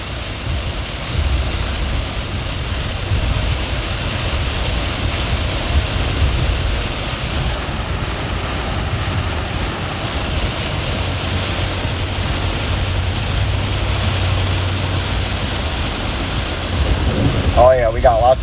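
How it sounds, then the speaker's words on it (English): Heavy rain pours steadily during a severe late-afternoon thunderstorm with tornado warnings in Roseville, water flooding the street. A dense, continuous roar with low rumbling underneath, and a voice faintly present. "as the rain continues to pick up in intensity."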